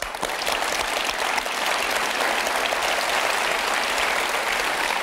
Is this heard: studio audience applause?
yes